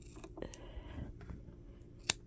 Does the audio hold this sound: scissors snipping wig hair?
yes